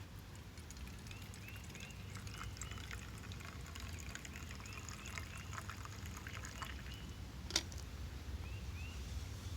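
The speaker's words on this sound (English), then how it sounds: "go ahead and pour ourselves a nice cup of white pine tea" Steeped white pine tea is poured into a cup in a thin, quiet trickle that runs steadily for several seconds, with one small clink partway through.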